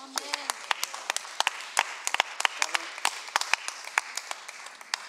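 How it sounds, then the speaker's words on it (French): A church congregation breaks into spontaneous applause, with scattered sharp claps ringing out over a steady wash of clapping. People talk underneath it. "que vous applaudissez spontanément"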